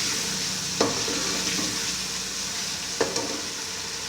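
Garam masala being mixed into a turnip and meat curry in a pan: a steady, soft cooking hiss with a few sharp spoon scrapes against the pot, spaced irregularly.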